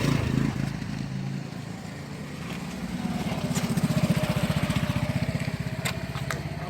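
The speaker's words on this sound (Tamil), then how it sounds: "So now let me start the car." A Hyundai i10 car engine starts and settles into a steady, loud running idle with a fast low throbbing pulse, close by, with a rumbling mechanical background beforehand.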